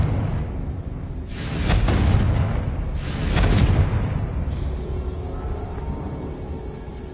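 A fire spell cast in the fantasy game Hogwarts Legacy sets off two heavy whooshing blasts about a second apart, loud and broad, over a constant low rumble of game ambience.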